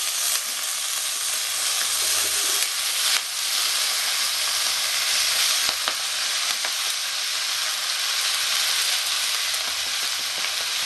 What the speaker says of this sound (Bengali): এবার আমি সমস্ত বাঁধাকপিগুলো দিয়ে দেবো